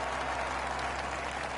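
A golf gallery at a PGA Tour event cheers and claps for an eagle, with dense, steady applause and crowd roar filling the whole moment without a break.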